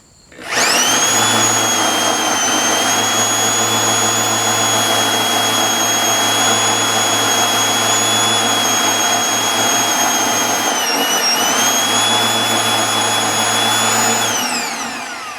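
A power drill whines steadily at high speed for several seconds outdoors in wind while mounting a sawmill hydraulic tank, briefly dipping in pitch before running on and stopping.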